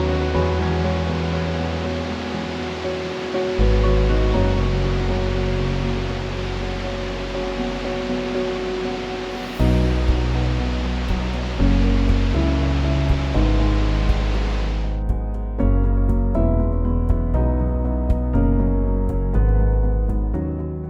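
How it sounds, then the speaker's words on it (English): A rushing river churns through several waterfalls in a scenic Norwegian gorge, a dense continuous roar of water, though music plays prominently over it throughout. "We first stopped at a scenic gorge where the rushing river churns its way through several waterfalls."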